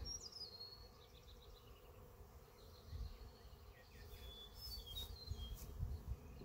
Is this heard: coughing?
no